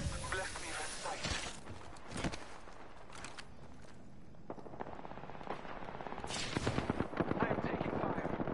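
Gunfire in the Apex Legends video game, with loud repeated shots and bursts of automatic fire, close and dense, mixed with game effects and a voice talking over it.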